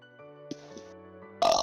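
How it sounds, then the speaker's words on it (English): A single loud burp erupts near the microphone over soft background music from a Minecraft game session. "Just burping away over here."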